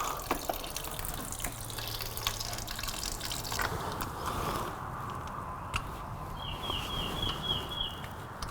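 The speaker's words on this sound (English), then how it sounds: "I'll wait till it stops draining." Coolant drains from a 2004–2007 Honda CBR1000RR during a hose replacement, a steady, continuous trickling and splashing of liquid that runs the whole time with no talking.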